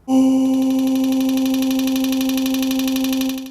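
A steady buzzing granular synth drone blending vocal and bicycle samples holds one pitch for a few seconds, textured with a faint grainy flutter, then fades at the end.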